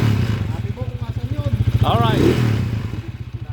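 A Kawasaki HD3 motorcycle engine idles with a steady, rapid putt-putt pulse running throughout, close and loud, while someone speaks briefly over it.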